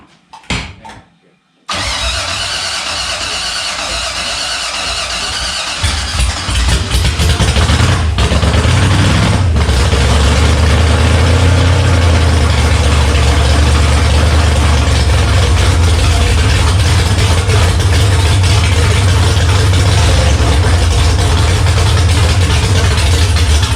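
A Henry J gasser project car with a 327 V8 and four-speed fires up after a brief quiet moment, then rumbles loud and rough, holding a heavy, continuous idle close by.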